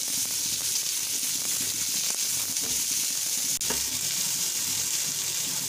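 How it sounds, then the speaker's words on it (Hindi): Bell pepper and cabbage sautéing in a hot pan for stuffed masala idli, a dense, loud, continuous hiss of frying, close up, with faint stirring underneath. "और ये शिमला मिर्च भी डाल दूंगी और इसे मैं अच्छे से भून लूंगी"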